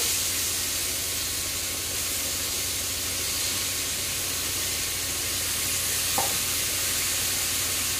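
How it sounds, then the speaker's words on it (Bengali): Cauliflower frying in hot oil in a home kitchen, a steady dense sizzle and hiss throughout with one brief clink near the end, no voices. "কপিটাও ভেজে নেব"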